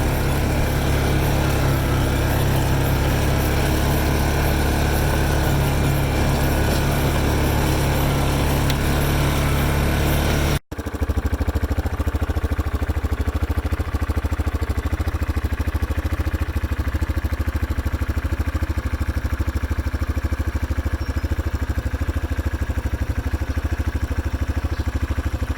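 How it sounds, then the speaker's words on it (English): A tractor engine runs steadily and loudly nearby, then drops in volume after a brief cut, continuing as a droning hum. "Time to ride the tractor again."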